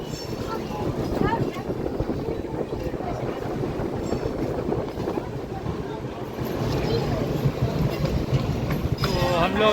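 The Durgiana Express rolls along the rails at about 130 km/h, giving a steady, close rumble with rhythmic clatter from the carriage, while someone talks over it throughout.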